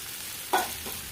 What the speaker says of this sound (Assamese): এতিয়া মই চিকেনটো হিলাই আছোঁ